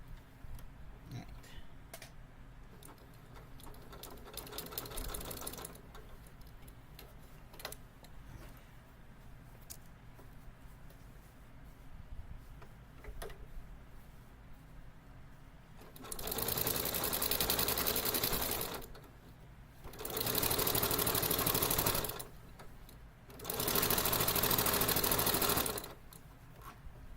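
A sewing machine stitches a seam in three sustained whirring bursts of a few seconds each, after a quieter stretch of faint ticks and handling sounds.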